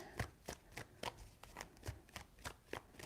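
Tarot cards shuffled close up in a quick, even rhythm of soft slaps, about ten light card strikes over three seconds, quiet and dry with no voice.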